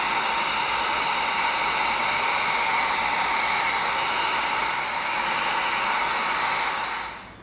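A heat gun blows a steady, loud hiss of hot air across frayed EVA foam edges left by a bandsaw, holding constant for about seven seconds before cutting off at the end.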